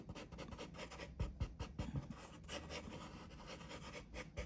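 Dry pastel chalk scraping and rubbing across paper in short, close, scratchy strokes, some soft and some sharper, repeating unevenly with brief pauses.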